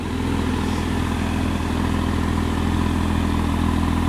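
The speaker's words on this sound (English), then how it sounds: "Beautiful sounding exhaust." A 2021 Porsche 718 Cayman GT4 engine and exhaust running steadily, a deep continuous idle rumble with a fine rhythmic pulse, loud and close, with no talking.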